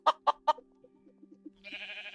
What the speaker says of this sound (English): Oh, we got a chicken.